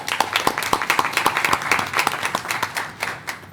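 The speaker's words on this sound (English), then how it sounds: "I think that deserves a round of applause." A school board meeting audience applauds, a fairly small crowd with distinct individual claps standing out over a moderate patter that tapers slightly at the end.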